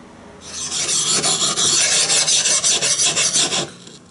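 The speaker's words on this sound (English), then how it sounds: "I'm moving the angle intentionally in this range to make a convex bevel" A hatchet bevel is reprofiled into a convex shape on a 1-inch Gyobi belt grinder, giving a loud, steady abrasive rasp that holds for about three seconds with slight rhythmic pulsing as the angle shifts, and no talking.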